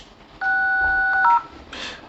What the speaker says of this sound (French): je vais vous faire écouter le son du téléphone